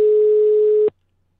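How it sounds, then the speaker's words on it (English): A telephone ringback tone sounds during an outgoing call as a single steady, clear beep held just under a second, then it cuts off into silence. "It's ringing."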